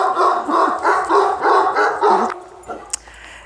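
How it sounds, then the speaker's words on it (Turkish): Several neighbourhood dogs bark in a rapid, repeated chorus, fairly close, then the barking breaks off into quieter yips and a short high sound. "Komşunun köpekleri."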